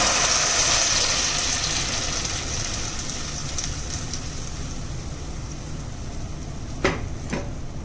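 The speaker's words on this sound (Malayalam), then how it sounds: "ഇനി നമുക്ക് അതിലേക്ക് നമ്മുടെ അരച്ചു വെച്ച് മിക്സ് ആഡ് ചെയ്ത് കൊടുക്കാം." A ground tomato paste mixture going into melted butter in a pan for paneer butter masala, heard as a loud hiss and sizzle that slowly settles, followed near the end by two quick scraping strokes.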